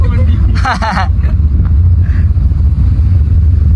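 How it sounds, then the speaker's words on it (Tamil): A car speeds along a road, its steady low engine and road rumble running throughout, with a brief burst of speech near the start riding over the drone. "நாங்கள் வந்து காரில் பயங்கரமாக போயிட்டு இருக்கோம் பாருங்க"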